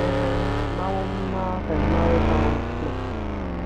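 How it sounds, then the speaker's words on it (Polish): A V8 car engine in the video game Mazovia Roads drones loudly and steadily, its pitch rising and falling slightly as the revs change, with someone speaking over it. "No dźwięk też jest fajny. To ma chyba V8."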